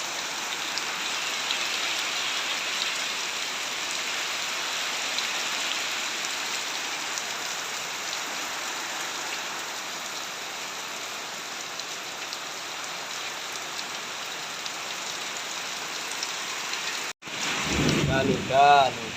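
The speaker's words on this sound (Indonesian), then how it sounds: "Hujan pertama di musim kemarau ini guys, ini hujan pertama di musim kemarau" First rain of the dry season pouring steadily as a continuous loud hiss, with a brief break and a short clatter near the end.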